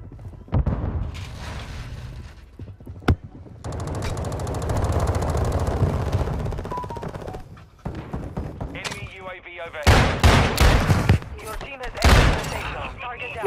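Shotgun blasts and rapid gunfire in a shooter video game, loud bursts and sustained volleys with sharp individual shots, heard alongside a player talking.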